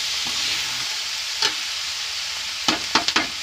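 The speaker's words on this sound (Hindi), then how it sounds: "प्याज के साथ अच्छे से नमक को भी हम मिक्स कर लेंगे" Chopped onions and salt sizzle steadily in a frying pan while a spoon stirs them, giving a few scraping knocks near the end over the constant hiss.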